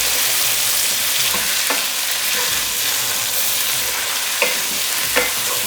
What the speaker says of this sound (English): So we need to continue fry another 10 minutes the meat.